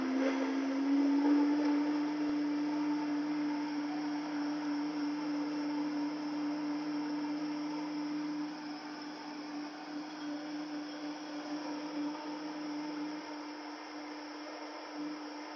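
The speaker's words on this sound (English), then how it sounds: "So I'm going to go ahead and blend this up." A Vitamix blender whirs steadily while blending a garlic salad dressing, a constant loud motor drone with a steady high-pitched whine running the whole time without a break.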